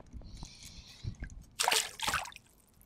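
A bass released back into the water makes a couple of quick, close splashes, with soft handling sounds and drips just before.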